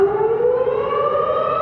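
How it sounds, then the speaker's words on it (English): Civil defense siren wailing steadily near the West Gate Bridge in Victoria, a loud sustained tone slowly rising in pitch over the whole stretch with no voices. "Some siren just went off in there."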